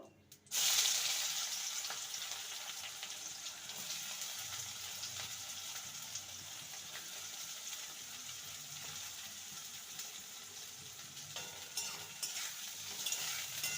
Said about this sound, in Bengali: কড়াইতে রিফাইন অয়েল দিয়ে দিয়েছি এবার বেরেস্তাটা ভেজে নেবো